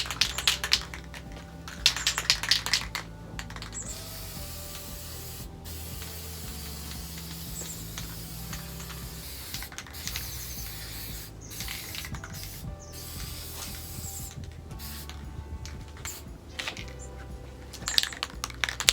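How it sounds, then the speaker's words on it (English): Short hissing bursts of a cheap white spray paint can used on a barn star, broken by clicks and rattles of handling, close by and fairly quiet. "Really cheap white spray paint."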